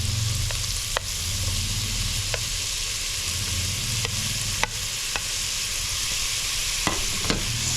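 Chopped tomatoes fry in a pan, a steady loud sizzle running throughout while a utensil stirs and scrapes, with occasional sharp clicks against the pan.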